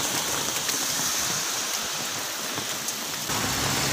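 Rainwater from a heavy rainstorm in Taiyuan pours off a roadway near a bridge like a small waterfall, a steady, even rush of splashing water that fills the whole moment without a pause.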